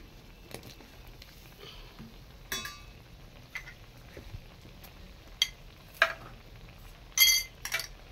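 Fried potatoes go into a simmering soybean curry and are stirred, bringing soft scrapes and light clinks of a spoon against the pan over a faint, steady sizzle, with a few sharper knocks near the end.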